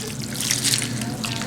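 Water is poured from a cup into a container for a garden experiment, a short gurgling trickle and splash heard over a steady low background hum.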